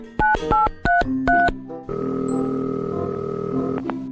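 Several quick electronic telephone keypad tones beep in a short run, followed by a steady tone lasting a couple of seconds; close and clear with no talking.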